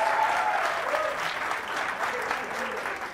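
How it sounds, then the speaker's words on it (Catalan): Studio audience applauding a school quiz team on a Catalan television quiz show, a full, continuous burst of clapping close and loud, with faint voices mixed in. "Un aplaudiment per ells."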